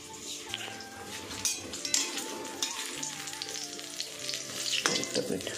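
Roti frying in a pan makes a close, continuous sizzle mixed with scattered clinks and scrapes of utensils and cookware, growing busier toward the end.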